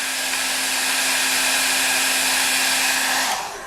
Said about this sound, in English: So now using a little hair dryer heat,